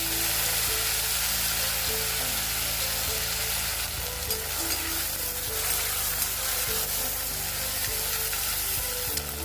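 Fenugreek seeds, chilli and tomato frying in the oil left from frying paneer give a loud, continuous hiss and sizzle close by, steady throughout with faint stirring clinks and no talk.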